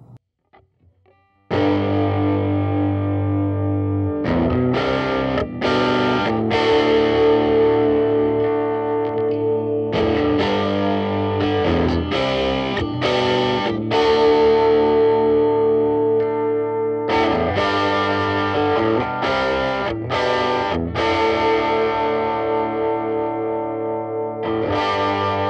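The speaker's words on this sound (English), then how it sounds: "All right, now let's listen to the guitar overdriven." An overdriven electric guitar rings out with distorted chords and sustained notes, strummed in bursts with short gaps between phrases, loud and full for the whole stretch after a brief quiet start.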